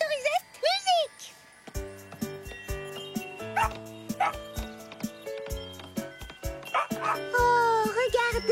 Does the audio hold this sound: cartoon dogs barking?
yes